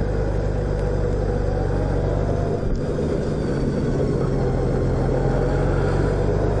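Honda Gold Wing motorcycle riding along the road, a continuous loud engine and wind rumble with a faint brief dip midway and no talking.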